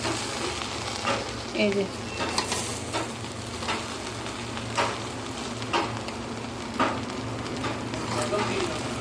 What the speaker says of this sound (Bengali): এখন আমি এটাকে নাড়াচাড়া দিই।